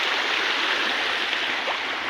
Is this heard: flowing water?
yes